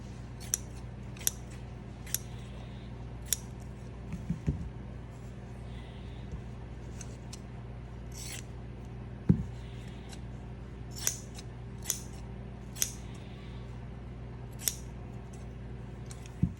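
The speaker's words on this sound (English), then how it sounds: "So let me get some material out here and see if we can get them to cut." Pinking shears cut through fabric in a series of sharp, crisp snips at irregular intervals, each close and distinct over a low steady background hum, with no talking.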